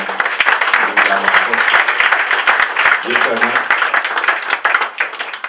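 Applause from the crowd at a political meeting marking a return to political activity, with dense continuous clapping throughout and voices talking over it.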